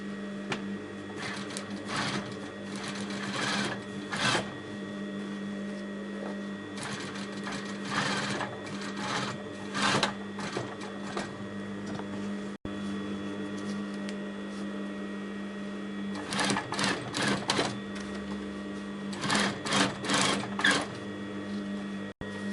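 A sewing machine stitches a Roman blind in close, steady runs, with several bursts of rapid stitching separated by brief pauses over a constant motor hum.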